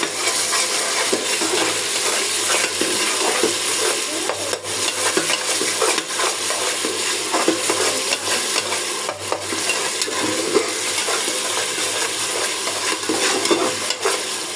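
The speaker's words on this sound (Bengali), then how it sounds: "আদা বাটা, জিরা বাটা, রসুন বাটা দিলাম। ভালো করে নাড়ে দিব।" Ginger, cumin and garlic paste frying for beef rezala, stirred steadily in a pan, with a continuous close sizzle and occasional scrapes of a spoon throughout.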